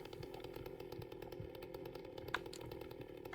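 Chainsaw in the 2024 Silent Hill 2 video game idling with a steady, buzzing engine drone that holds level throughout. The sound is faint and distant, with no speech over it.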